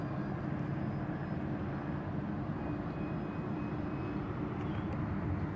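An E-flite T-28B Trojan 1.2m RC airplane on its maiden flight, with a steady electric motor drone heard from the ground at moderate loudness, no speech.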